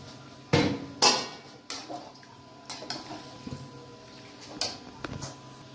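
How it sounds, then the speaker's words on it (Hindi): Soaked rice for aloo tahari being added to a cooking pot, heard as several sharp metallic clanks and knocks of a utensil against the pot, irregularly spaced over a quiet background with faint wet shuffling. "अब हम इसमें चावल डालेंगे।"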